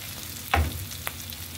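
Garlic, onion and ground meat sauté in butter for a French beans dish, a brief close sizzle with a sharp stirring clatter, no voices.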